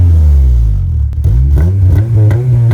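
A naturally aspirated 2006 Acura TSX with a manual gearbox revs loudly and close by. The engine tone dips briefly, then climbs through several rising harmonic sweeps as the revs build again.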